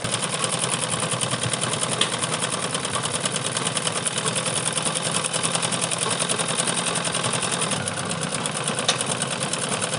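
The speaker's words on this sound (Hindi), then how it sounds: "इसी तरह हम आधा इंच की सिलाई लगाते हुए चले जाएंगे।" A sewing machine runs steadily, stitching the side seam of a pair of trousers with a half-inch seam allowance. Its fast, even whir carries on without pause for the whole stretch, close and fairly loud, with no talking.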